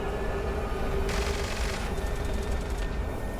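Automatic ghost rifle fire in Fallout 76: a rapid rattling burst of shots over a constant loud background rumble, with a second, lighter run of rapid fire shortly after.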